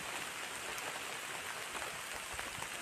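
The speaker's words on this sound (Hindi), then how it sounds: "हैवी रेन आने लगी।" Heavy rain pours onto a forest campsite during solo camping, a dense, steady hiss of drops on surfaces with no break, fairly quiet and even throughout.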